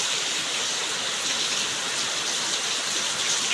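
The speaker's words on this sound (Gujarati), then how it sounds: "તો જો વરસાદ આવી ગયો છે" Rain pours down in a steady, even hiss that stays unbroken from start to finish, close and moderately loud, with no voices.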